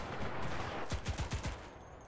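An MG42 machine gun in the video game Enlisted fires a short burst of about five rapid, punchy shots in quick succession, loud and close, following a stretch of low background battle noise.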